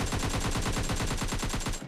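Rapid automatic fire from a PP-Bizon submachine gun in PUBG Lite, a loud, steady burst of closely spaced shots running almost two seconds with no pauses.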